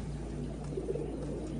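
Giribaz pigeons at a loft coo softly in low, throaty murmurs over a steady background hum, fairly close, with no talking.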